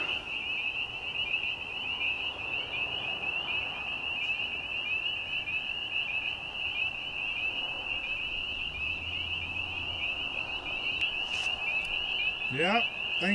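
A steady, high-pitched chorus of night crickets and frogs trills continuously, with occasional low croaks and a faint voice near the end.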